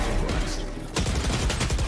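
Burst of gunfire in a competitive tactical shooter match, a dense fusillade filling the clip with a sharp break near the middle before the shots resume, loud and close with no talk over it.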